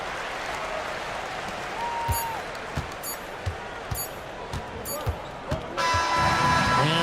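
In a 2K26 basketball video game, a crowd applauds after a made free throw. Ball bounces repeat at a steady rhythm, then a broad burst of clapping and cheering swells near the end under commentary.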